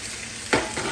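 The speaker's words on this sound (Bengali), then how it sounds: "সো চিকেনটা ভাজি করছে" Chicken frying in a pan, a brief loud sizzle with a sudden flare midway, close and unbroken, no talk.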